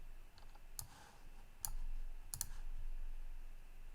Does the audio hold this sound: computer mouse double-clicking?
yes